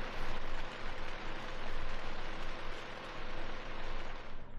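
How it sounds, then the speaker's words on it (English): Steady rain hisses close by in a dense, even wash of noise that swells and eases slightly, a brief passing shower in Scotland. "it's definitely raining"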